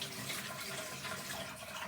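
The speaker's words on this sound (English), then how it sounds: "I removed the water I washed out" Water used to wash brown beans for Nigerian moi moi being poured off, a steady splashing, running stream of liquid at moderate level, heard alone without talk.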